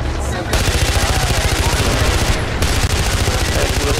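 Rapid, continuous automatic gunfire in Far Cry 4, loud and rhythmic, with brief dips in intensity.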